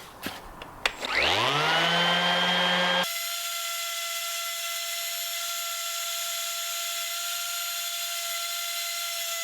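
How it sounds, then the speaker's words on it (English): A Milwaukee electric sander with a sanding pad spins up with a rising whine on plastic, then settles into a steady, loud high-pitched hum that runs on unbroken to the end. "I'm going to try sanding it with this Milwaukee sander with a sanding pad on."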